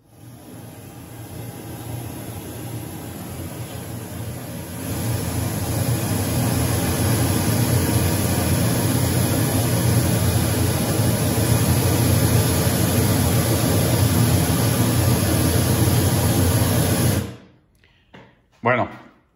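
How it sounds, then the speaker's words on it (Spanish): Pink noise test signal plays through an Electro-Voice loudspeaker as a loud, steady, broadband rush lasting about seventeen seconds, then stops abruptly, leaving a few faint thumps. "Vamos a ponerle un poco de ruido rosa."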